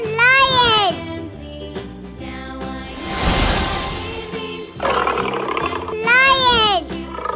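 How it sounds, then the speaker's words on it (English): A lion roars in a children's alphabet lesson: two loud, deep roars, one at the start and one near the end, with a stretch of mixed noise and tonal sound between them. "Lion."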